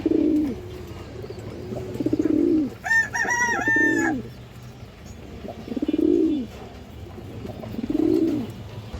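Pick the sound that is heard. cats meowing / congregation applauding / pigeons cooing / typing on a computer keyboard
pigeons cooing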